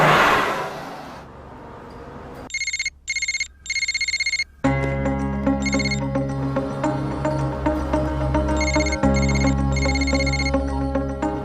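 A telephone rings in bursts, loud and close, starting after a short quiet stretch and cutting off briefly before a car engine hums and music-like tones carry on beneath later rings.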